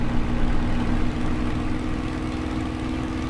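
Spitfire Mk IX Merlin engine at high RPM during a maximum performance climb in Microsoft Flight Simulator, a steady throaty low drone with a constant hum, heard alone without talk.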